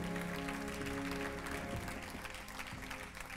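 A church congregation claps together in sustained applause to acclaim God, dense and continuous throughout with a murmuring crowd beneath.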